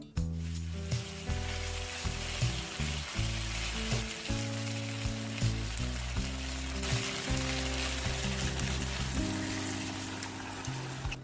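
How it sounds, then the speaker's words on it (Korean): Gochujang, doenjang and salted shrimp fry in rendered meat fat over low heat for a young squash stew, giving a steady close sizzle under continuous background music. "고추장과 된장, 새우젓을 넣고 고기 기름에 한 번 더 볶아주세요."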